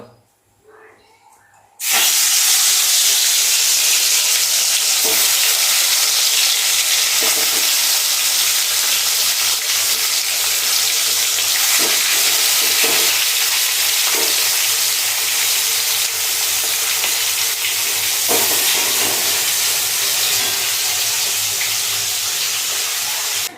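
Large tiger fish pieces fry in a pan of hot oil, bursting into a loud, continuous hissing sizzle after a short quiet start and holding steady close by.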